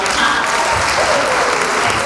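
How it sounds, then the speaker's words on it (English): An audience breaks into loud, dense applause at a motivational talk event. Close, steady clapping fills the full two seconds. "let's give a round of applause to our"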